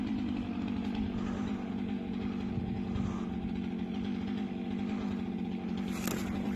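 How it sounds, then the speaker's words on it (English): A chainsaw runs steadily and fairly loud while felling a tree, its engine note wavering slightly as it runs low on gas; the motor drone continues without pause throughout. "Saw sounds like it's getting ready to run out of gas."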